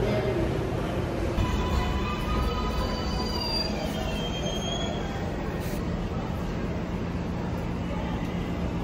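A New York 7 subway train runs through a metro station toward Hunters Point, its wheels squealing in sustained high-pitched screeches and whines over a steady, loud rumble of rolling rail cars.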